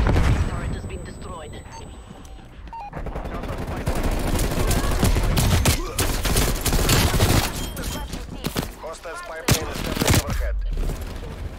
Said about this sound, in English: Bringing sentry turret online.